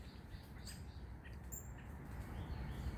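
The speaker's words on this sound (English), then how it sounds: "Look at all them birds." A flock of around fifty birds chirps outdoors near a spot where pecans are set out, scattered tweets and calls rising over a steady rumbling background, moderately distant and fairly faint.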